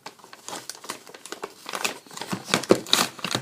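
A large parcel envelope is torn open close up, a series of irregular paper crinkles and rips that grow louder and busier toward the end, with no talk.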